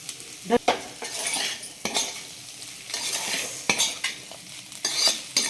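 Prawn fried rice tossed and stirred fast in a pan over high flame: brisk, irregular scraping strokes and clanks of a utensil against the pan over a light sizzle, close and without speech.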